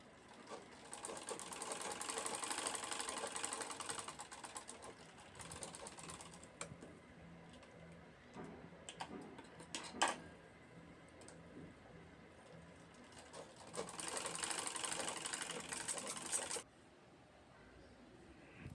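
A sewing machine runs stitch lines across a homemade cloth roti cover, a fast, soft mechanical whir in several bursts with short pauses between runs, close and fairly quiet.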